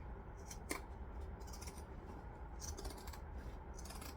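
Spring-loaded scissors being handled, opened and closed, giving short snipping and metallic clicks with a sharper snap early on, over steady low background noise, with no talking.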